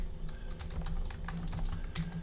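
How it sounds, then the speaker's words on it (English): Fast, steady typing on a computer keyboard, with dense clicking keystrokes up close and no voices. "I'm going to type out this signature first"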